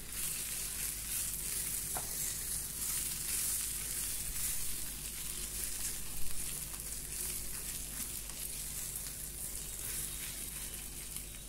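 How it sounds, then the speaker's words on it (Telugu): Fenugreek leaves and onion fry in a pan while being stirred, making a loud, steady, close sizzle throughout with a faint scrape now and then. "వేసుకున్న తర్వాత ఒకసారి అంతా కలుపుతూ వేపండి."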